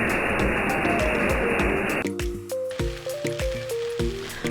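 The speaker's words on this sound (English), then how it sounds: "we're gonna pour in our chicken meat and gradually stir it for 1 to 2 minutes." Chicken meat is stirred in a pan for adobo, with wet squishing and scraping in irregular bursts, first under a loud hiss and then clearer, close and moderately loud.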